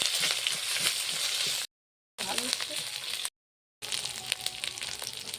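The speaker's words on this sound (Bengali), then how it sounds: "এক চামচ জিরে বাটা দিয়ে দেব। মশলাটা কষে নেব সুন্দর করে।" Cumin paste and spices frying in a pan with chopped green chillies for taro leaves cooked with coconut, a steady broadband sizzle interrupted by two brief silent cuts, with a voice talking over the frying.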